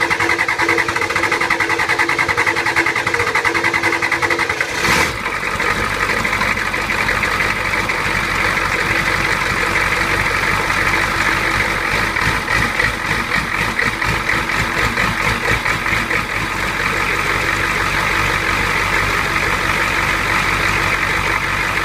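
A Ford 6.9 or 7.3 diesel engine with a hard-starting, cold-stalling condition and a fuel leak cranks briefly, catches with a sharp burst near five seconds and then settles into a steady, loud, clattering idle that runs on alone.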